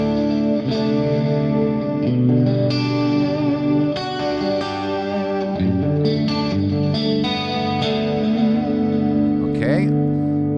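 Electric guitar through a Fractal Axe-FX III on the clean channel with a pitch effect used like chorus, shimmering sustained chords and picked notes played continuously with a wide, swirling tone.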